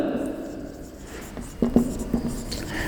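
Chalk or marker writing on a board, heard as a few short scratchy strokes partway through, moderately close, under room ambience with a voice speaking around it.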